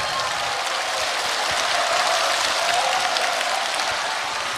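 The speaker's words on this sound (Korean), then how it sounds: "박수 부탁드리겠습니다" A comedy show audience applauds, a loud continuous wash of clapping from a large crowd that stays even throughout with no pauses or talk rising above it.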